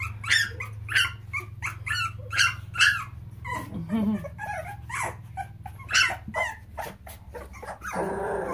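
Boxer puppies bark in short, high, repeated yaps mixed with whines and whimpers, close and fairly loud, with a low steady hum underneath.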